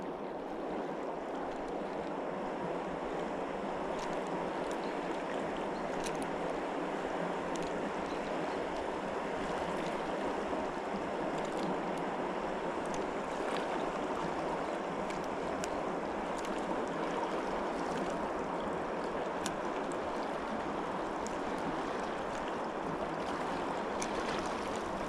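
Fast-flowing water in a fishing stream rushes with a steady, dense hiss and churn, continuous and fairly close, with no voices.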